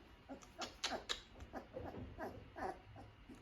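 Young pitbull or Belgian Malinois puppy, about a month old, giving a string of short high whimpers and squeaks, close by, with faint rustling between cries.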